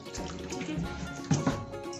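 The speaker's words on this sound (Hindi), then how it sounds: "इसके अंदर जो एक्स्ट्रा पानी है वो इस तरह से निकाल दें।" Water drips and splashes as extra liquid is pressed out of fresh homemade cheese for rasgulla in a home kitchen, a soft continuous trickle with two sharper splashes near the end.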